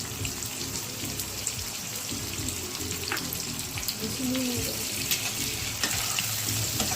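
Onions and spices frying in a pan for prawn biryani while being stirred, a steady close sizzle with scraping and clinks of the spoon throughout, no talking.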